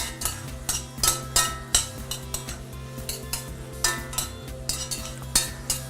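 Food stirred in a cooking pot with onion and garlic, a spoon scraping and clinking against the metal in repeated strokes over a soft sizzle, close and alone.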